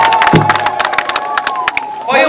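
A lively outdoor crowd at an avocado farm launch claps and cheers in a dense burst of rapid hand claps, loud and close, with shouts rising briefly near the end.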